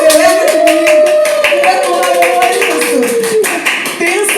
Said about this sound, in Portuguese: Por favor, do outro lado também, bate palmas, celebra comigo